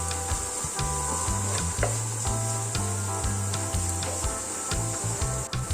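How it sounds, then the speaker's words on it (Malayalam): Crushed ginger, garlic and onion sautéing in a pan: a continuous sizzle with repeated stirring strokes and scrapes under a low steady hum, with no voices. "സവാളയൊക്കെ ഇഞ്ചിയും വെളുത്തുള്ളിയും എല്ലാം നന്നായിട്ടൊന്ന് വാടി വരണം"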